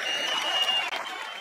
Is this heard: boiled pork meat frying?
no